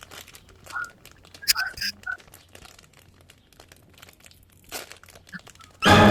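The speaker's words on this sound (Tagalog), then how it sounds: "Bubuksan ko na ng gunting." A package is opened with scissors indoors, with crinkling plastic, tearing and snipping in scattered bursts and a loud rustle at the end.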